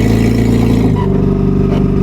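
A WWII Jeep engine runs loud and close with a steady throaty rumble and mechanical clatter while the vehicle drives, the pitch shifting slightly midway as it changes gear.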